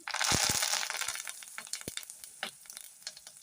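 Spices for lemon rice tempering crackle and sizzle in hot oil, a loud burst of frying that settles into scattered pops and stirring scrapes.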